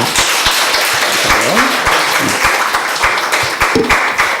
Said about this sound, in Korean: 우리 격려의 박수 부탁드리겠습니다.